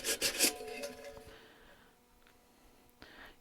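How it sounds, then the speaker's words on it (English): A sanding sponge rubbing through layers of paint on a decoupage craft piece, a few quick close scraping strokes at first, then fading to faint scratches and a brief rub near the end. "You're just sanding through the layers of paint."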